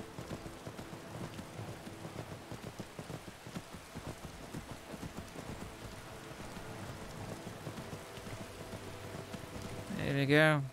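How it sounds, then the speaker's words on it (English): Rain falls steadily in the Skyrim video game, a soft, constant hiss with faint hoofbeats underneath, building to a rumbling swell of thunder near the end. "Straight into rain."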